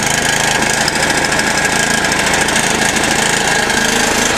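Small engine started on choke and warming up, running steadily with a loud, dense, rough drone and no pauses.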